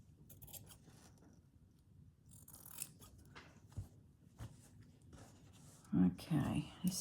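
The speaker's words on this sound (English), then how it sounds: "I might use the big scissors first just to separate it out." Big scissors cutting through old denim jacket fabric, a series of faint close snips and rustles, with soft whispered talk and a louder burst of handling near the end.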